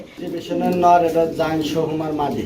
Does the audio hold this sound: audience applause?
no